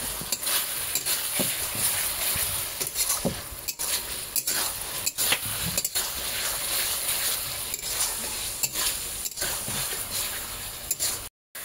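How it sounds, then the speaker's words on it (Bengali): Spice paste and chopped tomato are stirred and fried in a wok, a steady close sizzle broken by repeated scraping strokes of a spatula against the metal pan, with no voices. "এবার সুন্দর করে আমি এখন মশলাটাকে অনেকক্ষণ থেকে কষাবো।"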